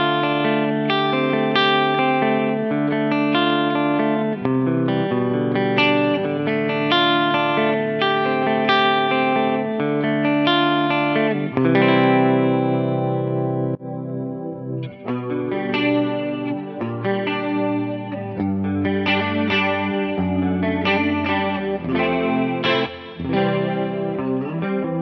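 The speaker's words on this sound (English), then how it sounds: "There's a lovely greasy tri-chorus on there." Electric guitar on the middle pickup through a Mooer Prime M2 tri-chorus patch: chords and single notes ring out with a thick, shimmering chorus and slight grit, played continuously with a lush, wide tone.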